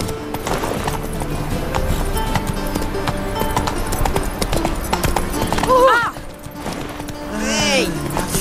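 Horse galloping in The Witcher 3: Wild Hunt, rapid clip-clopping hooves under a busy mix of game music and voices, with a short whinny near the end.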